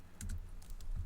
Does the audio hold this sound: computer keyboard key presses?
yes